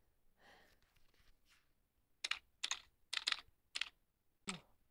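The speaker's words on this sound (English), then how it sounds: "You like typing on a keyboard." Simulated keyboard typing from an antistress fidget mobile app, a series of about six sharp, separate key clicks in an uneven rhythm, quiet and close, following a brief breathy sound.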